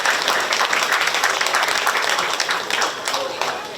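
A Korean community gathering's audience gives loud, sustained applause, many hands clapping together in a dense wash, with voices mixed in underneath.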